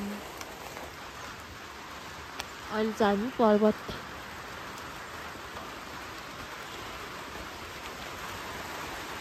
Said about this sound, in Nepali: पानी परिरहेको छ